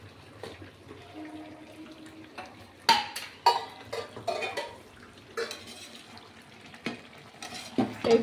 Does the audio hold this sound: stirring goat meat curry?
yes